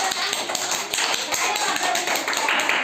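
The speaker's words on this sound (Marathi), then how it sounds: "वाजवा टाळ्या" Schoolchildren in a classroom clap their hands together in a quick, steady rhythm. The claps are close and sharp over a busy room background, with no clear speech.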